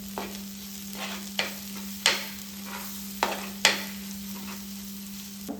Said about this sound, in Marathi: व्यवस्थितपणे मिक्स करून घेऊयात.